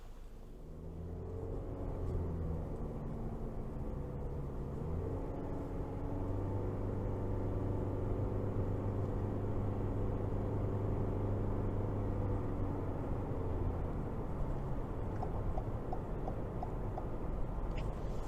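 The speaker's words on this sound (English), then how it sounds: "next I'm going to go ahead and take it out on the road for a quick test drive" A 2022 Toyota Corolla Cross driving on the road, heard from inside the cabin as a steady engine drone and road rumble with a tone that climbs slightly as it accelerates, continuous and fairly quiet.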